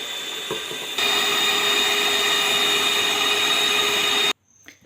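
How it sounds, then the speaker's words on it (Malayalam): Electric hand mixer beating eggs with vanilla essence for cake batter, a steady loud whirring drone that starts, holds for several seconds, then cuts off abruptly. "നമുക്ക് ഈ എഗ്ഗ് ഒന്ന് ബീറ്റ് ചെയ്തെടുക്കാം."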